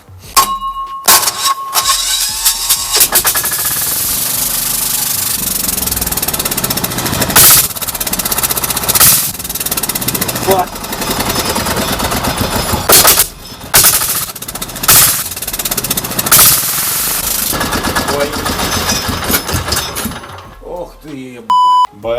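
A turbodiesel van engine starts up and revs with loud, choppy bursts and clattering, rising and falling under throttle, with people talking over it and an electronic beep near the start.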